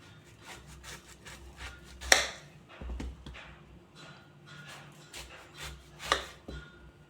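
A knife chops small raw jackfruit into pieces on a board, with a few sharp cuts and softer scraping strokes, close and fairly quiet, with no one talking.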